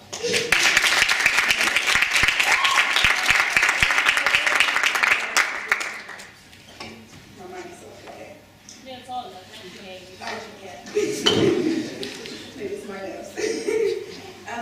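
An audience at a speaking event breaks into loud, sustained applause for the host, lasting about six seconds before fading into scattered chuckles and murmuring voices.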